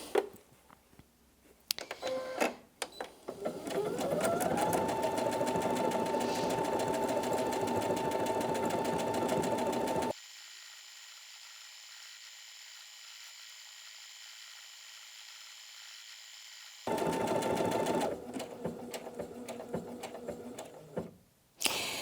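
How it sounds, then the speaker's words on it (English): A Brother Innov-is NV2700 sewing and embroidery machine runs a decorative stitch pattern: a steady whirring hum with rhythmic ticking, preceded by clicks, pausing into near silence, then resuming briefly before stopping. "because it's sewing back and forwards and left and right when we're doing those"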